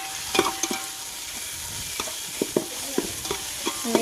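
Pulao masala with mint and curry leaf paste fries in a pan, a low steady sizzle under a series of distinct spatula taps and scrapes, close and with no talking.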